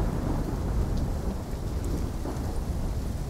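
A thunderstorm with heavy rain in the Black Ops 3 campaign, a dense, steady rush of rainfall with a low, rolling thunder rumble underneath.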